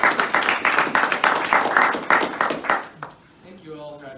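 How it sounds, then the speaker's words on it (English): Classroom audience claps for a student speaker, about three seconds of brisk, fairly close applause that stops abruptly before a voice begins to talk. "Let's give him a round of applause."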